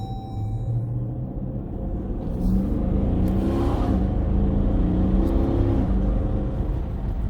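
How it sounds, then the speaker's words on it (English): Dodge Durango R/T SUV engine droning and swelling in a steady rev with a deep rumble that rises midway, heard from inside the cabin with no talk. "I love how it blips the downshift most of the time."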